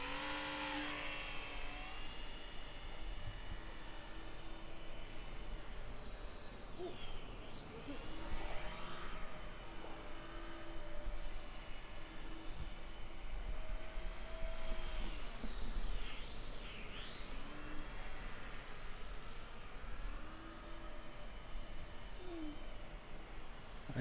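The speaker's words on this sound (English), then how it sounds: "now we are finally able to fly the P39" A TopRcHobby 402 mm mini P39 RC plane buzzes through the air with a high electric whine that rises and falls in pitch as it makes fast passes overhead, mostly distant and steady.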